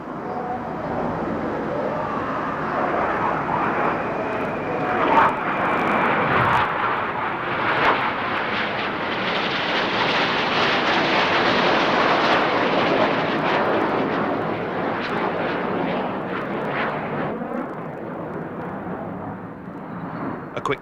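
Jet aerobatic display team roaring overhead at the 1987 Air Tattoo airshow at RAF Fairford, a broad sustained rumble swelling and fading as the jets pass, with commentary over it.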